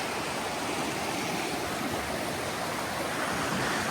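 Clear, ice-cold mountain stream at Bodoq lake rushing steadily, a dense continuous wash of flowing water close by with no voices.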